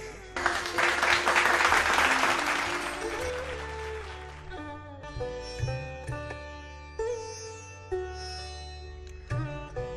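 A crowd claps in welcome for guests at a self-employment programme event, a dense burst of applause for about four seconds that fades out, followed by light instrumental music with soft percussive accents.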